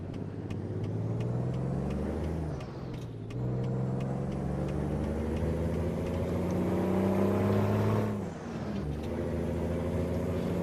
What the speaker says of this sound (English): this truck did really well out of third gear